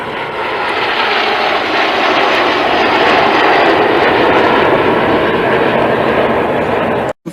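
Red Arrows jets roar overhead during a Battle of Britain airshow at Duxford, a loud, sustained broadband engine rush that holds steady for about seven seconds before cutting out abruptly.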